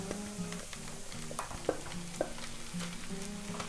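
Mushrooms frying in a pan, giving a soft steady sizzle with a few light scrapes and clicks, while a low tonal hum runs underneath.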